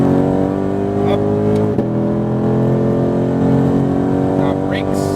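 A sports car accelerates on a racetrack in Las Vegas, its engine a loud, sustained, close roar with steady tonal harmonics and a brief dip near the middle before the pull resumes.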